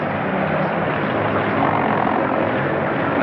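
A military propeller aircraft drones loudly and steadily close by, its engine roar filling the whole stretch without a break.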